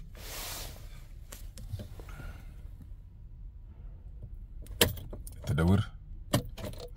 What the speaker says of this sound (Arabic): طب انا بطفي السيارة